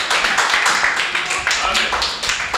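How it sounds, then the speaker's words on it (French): A church congregation applauding at a New Year's Eve service, dense sustained clapping from many hands at close range, steady and loud for the whole moment. "Applaudissons pour la gloire de Dieu."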